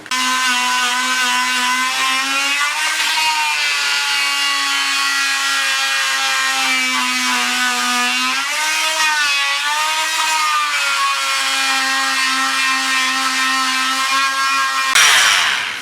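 A power saw cuts a scarf joint into a wooden boat hull, its motor holding a loud, steady whine that dips and shifts pitch under load, then cuts off abruptly near the end.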